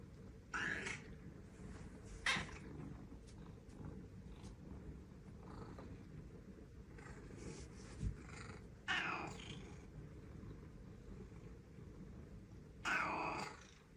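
A double amputee cat purrs steadily and quietly at close range on a lap, with several brief raspy meows and grunting vocalizations breaking through at intervals.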